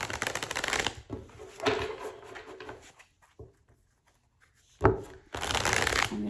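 Tarot cards being shuffled by hand: a few close, crisp riffling bursts separated by quiet pauses, with one sharp tap near the end followed by more fast shuffling.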